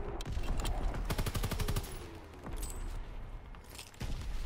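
Volkssturmgewehr assault rifle firing in the Call of Duty WWII video game: loud, rapid bursts of gunfire rattle close up and are separated by brief pauses, with booms and battlefield noise underneath.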